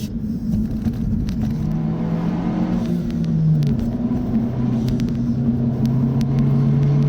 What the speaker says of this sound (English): And there he is, going full throttle.